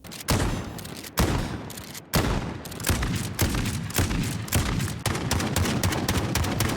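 VLK Rogue shotgun in Modern Warfare firing rapid full-auto bursts, loud close blasts in quick succession with brief pauses between strings, no talking.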